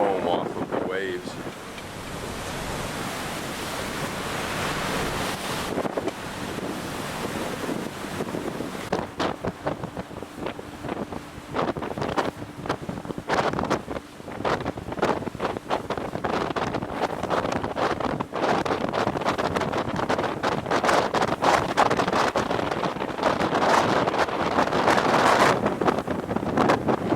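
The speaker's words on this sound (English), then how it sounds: "you get a sense of the wind that's blowing out here, because once in a while a wave will hit it" Strong wind roars at sea off Cape Horn, seen from a cruise ship, with waves breaking and spraying against a rock. The steady, gusty rush comes close on the microphone, with rough surges and sharp buffeting bursts throughout.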